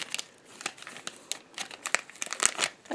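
Plastic blind bag packaging for a DreamWorks Trolls Series 7 color change figure, crinkling and rustling as it is cut open, with a quick run of close, bursty crackles and snips and no talking.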